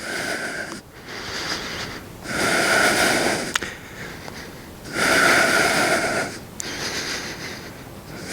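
Forceful breaths during a yoga power flow come in slow alternating cycles, loud, close and rushing, with audible nasal snorts and a couple of sharp clicks between inhales and exhales.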